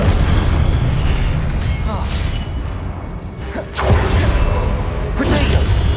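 Incendio fire spell cast in Hogwarts Legacy, a loud sustained rushing burst with booming low rumble and whooshing flare-ups, dense and continuous through the whole stretch.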